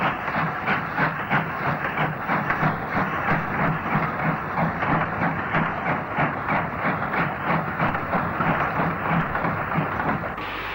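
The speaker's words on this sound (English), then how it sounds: "60-20, King Henry IV pulls away from Wolverhampton." Steam locomotive King Henry IV pulls away from Wolverhampton, a steady rhythm of chuffing exhaust beats over hiss and rail clatter, fairly close and continuous, with no voices.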